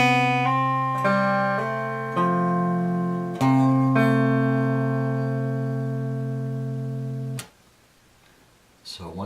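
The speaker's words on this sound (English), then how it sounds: "And you're going to arpeggiate it this way this time." Slow arpeggiated guitar chords, notes plucked one after another and left ringing in several separate strums, each decaying before the last fades into quiet.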